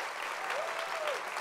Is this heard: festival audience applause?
yes